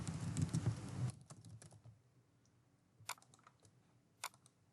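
Computer keyboard keys clatter in a short burst of close typing, then a few isolated, faint keystrokes follow over quiet room tone. No one speaks.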